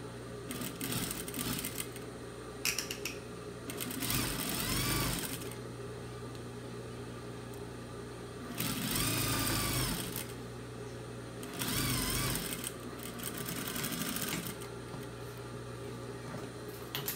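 Sewing machine stitching a seam on a fabric doll, close and quiet, running in several whirring bursts of a few seconds each with pauses of softer mechanical ticking between them.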